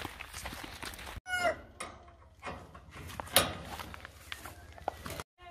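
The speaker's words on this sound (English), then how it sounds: "these are all our chickens." Backyard coop chickens cluck and squawk softly in scattered bursts at close range, with a crow-like call in the middle and a voice talking quietly among them.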